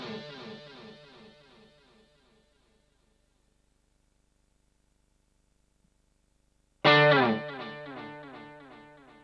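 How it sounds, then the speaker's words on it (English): On a Boss GT-10B bass effects processor, a distorted chord from a solo patch rings out and its delayed repeats trail off into silence, then a cleaner chord from a clean patch strikes loudly and decays. "Hear how the delay carries over."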